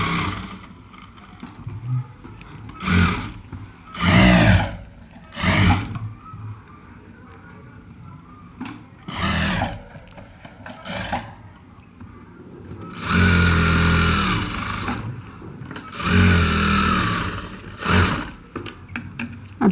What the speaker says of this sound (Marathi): आता उलटा करून आपण ही किनार शिवून घेऊया.